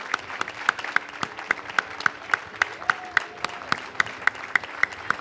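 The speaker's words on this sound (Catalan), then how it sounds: "per això demano un aplaudiment" Rhythmic, evenly spaced clapping, probably a group clapping in unison, runs steadily throughout as applause for the organising committee of the 38th Trobada gathering in Albalat, 2023.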